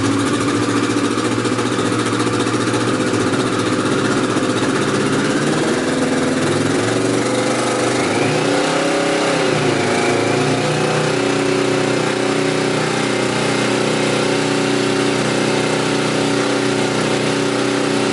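Kawasaki ER6 motorcycle fitted with a full Mivv Suono exhaust system, held at a steady 4000 rpm, a loud, sustained buzzing engine drone with a slight wavering in the middle, close up and continuous with no talk.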